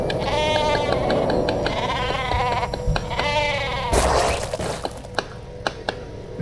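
A sheep bleats repeatedly in a StarCraft match played in peep mode, a wavering, nasal cry heard up close over game noise, followed by sharp clicks and thuds of in-game action.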